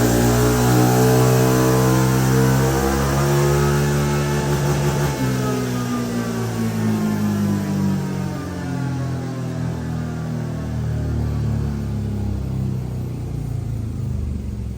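A CFMOTO engine runs loud and sustained on a dyno during a low-gear, low-speed pull toward its 8,400 rpm rev limiter, its droning harmonics climbing steadily and then shifting higher partway through, with no talking.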